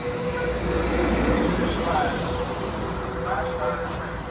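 Amtrak passenger train heading to Los Angeles, a steady, loud interior rumble and rolling rail noise throughout, with a faint tonal whine above it and no clear voices.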